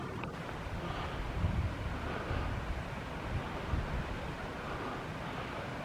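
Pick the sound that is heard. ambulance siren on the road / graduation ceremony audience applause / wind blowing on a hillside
wind blowing on a hillside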